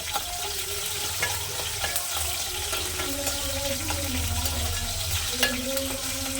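Dried red chilies and cut green chilies frying in a pan give a steady low sizzle throughout, with faint scattered clinks and pops over a continuous background hum.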